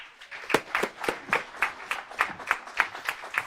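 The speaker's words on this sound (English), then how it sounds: "So if you'll all give a nice round of applause for our next teacher, William." Audience applause for a new teacher at a men's character-education certification course, heard as a small group's distinct, rhythmic claps, fairly close and moderately loud, with no talking over it.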